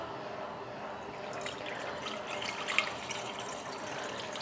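Water measured out for hot cross bun dough is poured into a bowl as a steady close splashing trickle that holds for several seconds at moderate level, with a small clink near the end.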